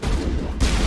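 Gunfire in Mass Effect Legendary Edition, a dense, loud burst of shots that runs continuously for under a second with no pause, close and harsh.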